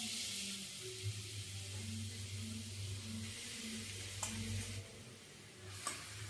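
Grated carrot frying in hot ghee for carrot rasmalai, a steady close sizzle with soft stirring scrapes throughout, a couple of brief sharper clicks near the end.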